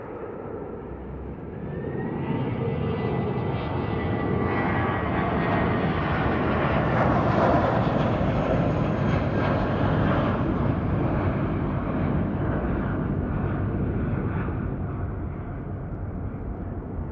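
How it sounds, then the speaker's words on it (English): British Airways Airbus A319-131 jet on a midday visual approach to Heathrow runway 27R, a steady loud broadband engine roar swelling as it passes overhead, then easing slightly, with no talk. "BA979, an A319-131 from Berlin, on a midday visual approach to Heathrow's runway 27R."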